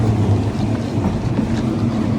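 A tram pulls in at a stop in Ireland, bound for O'Connell GPO, with a steady low rumble and a faint clatter of wheels that carries on without a break, close and moderately loud. No one speaks.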